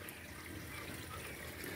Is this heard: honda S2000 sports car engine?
no